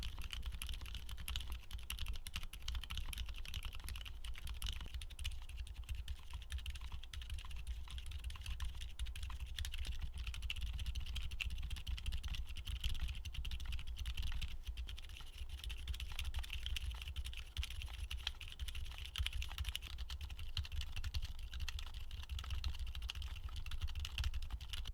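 Steady run of typing on a keyboard fitted with silent linear switches, a soft, muted clatter of keystrokes going on continuously for the whole stretch with no talking.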